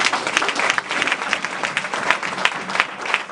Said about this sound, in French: Les Alpha, on acclame.